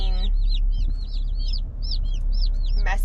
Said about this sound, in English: messy chickens